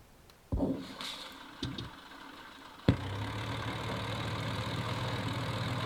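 Spitfire Mk.IIA in Combat Flight Simulator 3: a few sharp mechanical clunks, then a cartridge start bang as the piston engine catches and falls into a steady, rumbling idle heard from the cockpit.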